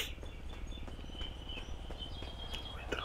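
Steady high chirping birdsong in the game GTA 5 fills the background, with a continuous low rumble and occasional faint clicks beneath it.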